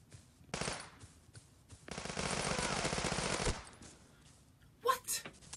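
Automatic gunfire from the first-person shooter game Bullet Force rattles out in long rapid bursts with brief pauses between, loud and close, followed by a few isolated shots.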